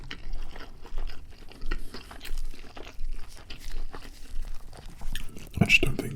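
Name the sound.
eating a KFC burger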